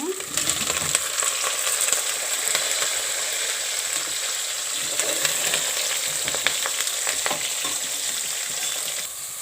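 Bitter gourd pieces sizzle and crackle steadily in hot tempering oil while being stirred, with intermittent scrapes and clinks against the pan, loud and close throughout.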